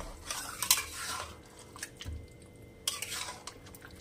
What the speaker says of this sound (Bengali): এবারে হাই ফ্লেমে আমি এটা কষাবো, জলটা পুরো টেনে যাবে।